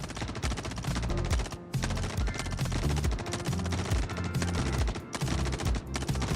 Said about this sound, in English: I think they're shooting my ship.